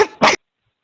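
A single sharp sneeze during a team call, a quick loud two-part burst up close, followed by silence.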